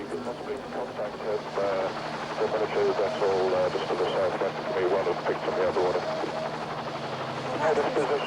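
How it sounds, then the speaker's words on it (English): A rescue helicopter flying steadily, its broad rotor and engine roar filling the scene while a person speaks over it throughout. "He's in that helicopter."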